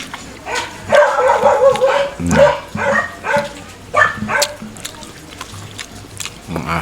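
A pet dog barking outdoors during a meal of grilled milkfish, a series of sharp yips and barks at close range, some whimpering between them.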